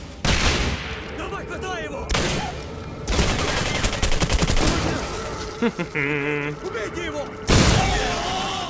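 Bursts of rapid gunfire and heavy booming shots in the video game Singularity, loud and close, with electronic effect tones and a voice talking over parts of the action.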